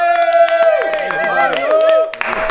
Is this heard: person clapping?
yes